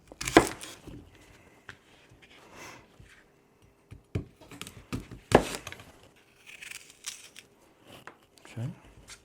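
A knife cuts an apple into quarters with a few sharp, crisp chops and slices close by, spaced irregularly between quiet pauses while a person talks.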